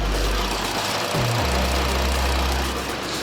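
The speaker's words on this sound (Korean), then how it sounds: "자 이렇게 영상에서 듣는 것처럼 휘발유 엔진을 탑재하고 있는 만큼 차량 엔진 소음도 조용하고 정숙한 차량이고요" A gasoline engine in an imported SUV idles steadily with the bonnet open, a close, even drone with a brief dip in pitch partway through and no voices.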